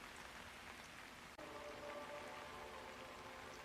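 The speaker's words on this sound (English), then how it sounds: "It feels like it's never going to stop raining." Steady rain in the city of Chongqing in the video game Hitman 3, a constant wet hiss of drops on streets and surfaces, with a brief dropout partway through and no voices.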